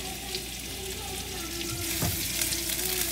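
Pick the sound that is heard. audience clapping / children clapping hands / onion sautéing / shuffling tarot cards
onion sautéing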